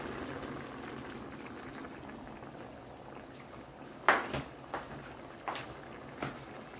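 Fresh coconut milk poured into a simmering ginataang sitaw vegetable stew, a low bubbling simmer with a few faint splashes and soft clinks near the end.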